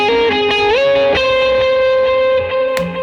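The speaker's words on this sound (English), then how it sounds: "I'll turn on like a low gain drive" Electric guitar played through a low gain drive pedal with delay, for a worship song chorus: loud sustained, slightly gritty chords with pitch slides and echoing repeats, no voices.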